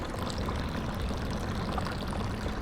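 Fabric softener poured into a bucket of rinse water inside an RV during hand laundry: a steady, close splashing pour that runs unbroken for the whole stretch with no voices.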